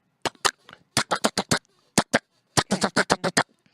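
A voice mimics M16 rifle fire with quick staccato bursts of short popping syllables in clusters, close and dry, which come out sounding rather like a duck's quack.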